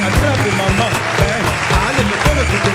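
A crowd applauds loudly at a live show, with cheers and shouts mixed into steady clapping, alongside strong low-frequency thumps throughout.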